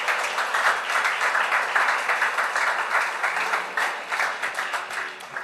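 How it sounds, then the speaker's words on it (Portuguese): A church congregation at the close of a worship service applauds steadily, a moderately loud, even patter of many hands with slight swells that continues throughout. "Se você puder aplaudir o Senhor aí em teu lugar"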